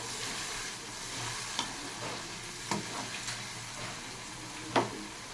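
Spice masala cooks down in a pan with a soft, continuous low sizzle, while occasional spatula scrapes and taps stand out as brief louder clicks, fairly quiet overall.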